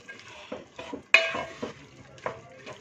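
Small chopped cauliflower stalk pieces for aloo gobi frying in a pan, a soft sizzle under a few distinct stirring clinks and scrapes of a spoon against metal, one sharper knock midway.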